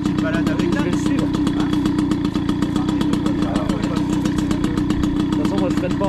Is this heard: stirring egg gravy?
no